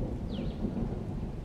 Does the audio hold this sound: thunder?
yes